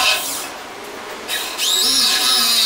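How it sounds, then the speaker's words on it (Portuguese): A drill bit boring the lock hole in a pivot door, heard as a steady close high whine that steps up in pitch partway through and keeps running to the end. "Nós estamos com uma broca, que é broca apropriada para nós fazermos furação"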